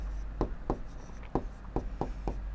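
Chalk or pen writing on a board or paper in six short, evenly spaced strokes, quiet and close over a low background hum.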